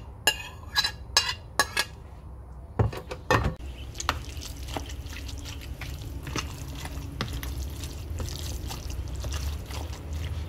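Minced beef being mixed with sautéed vegetables in a bowl for beef-loaf muffins: a run of sharp clinks and scrapes of a utensil against the bowl early on, then steady, softer wet mixing and rustling.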